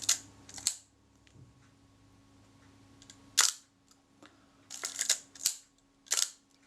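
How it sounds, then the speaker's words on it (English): A Braun Paxette Reflex Automatic camera fires its shutter repeatedly, sharp close mechanical clicks and snaps in irregular bursts, some in quick pairs, with quiet pauses between. "Now in theory the shutter should work."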